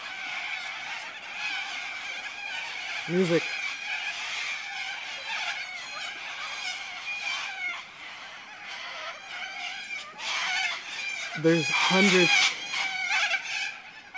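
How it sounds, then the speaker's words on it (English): Hundreds of parrots coming in to roost, squawking and chattering at once in a noisy, continuous flock chorus, with a couple of brief low honks and a few words spoken. "here are the parrots coming to roost"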